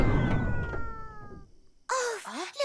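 A cartoon cat lets out two short, clear meows near the end, after a brief stretch of other cartoon sound fading out.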